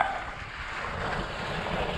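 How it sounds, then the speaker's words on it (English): Strong wind gusting over a sailboat during a Mediterranean medicane storm, a steady broadband rush and buffeting against the microphone with a wash of water beneath, continuous and fairly loud throughout, no voices. "Later that same morning, the wind got up."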